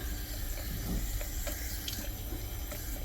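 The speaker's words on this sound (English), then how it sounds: "It's not enough water coming through" Tap water runs steadily into a sink or tub while a cat is bathed, a continuous close hiss and splash with a few faint knocks of handling.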